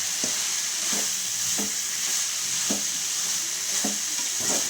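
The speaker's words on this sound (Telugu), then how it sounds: "బాగా కలుపుకోవాలన్నమాట" Ground spice masala, chili powder and salt being mixed into a dish on the stove: a constant sizzle with regular, evenly spaced scraping strokes of a spoon about once a second.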